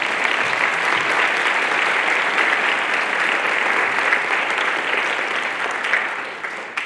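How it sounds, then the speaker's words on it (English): Sustained audience applause at a school choir concert, a dense steady wash of clapping from a large crowd lasting several seconds and beginning to thin near the end. "Can you join me in giving that group a big round of applause?"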